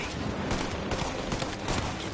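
Rapid gunfire from a firefight in the video game Mafia Definitive Edition: a dense run of sharp, loud shots packed close together, crackling steadily for a couple of seconds with no voice over them.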